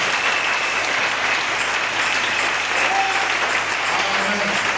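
A church congregation applauds steadily and loudly throughout, a dense continuous wash of clapping with the murmur of a crowd mixed in.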